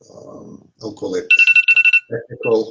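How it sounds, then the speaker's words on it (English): A phone alarm rings in a burst of rapid repeated electronic tones, loud and close, with a person speaking just before and after it. "so that was my alarm that I forgot to put on."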